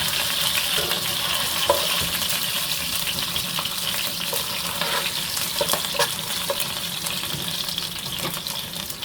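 Magur catfish pieces fry in hot oil in a pan, giving a loud, constant sizzle with occasional crackles and stirring clatter throughout.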